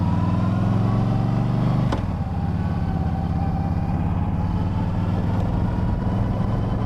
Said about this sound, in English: So I'm going to go ahead and turn the bike on.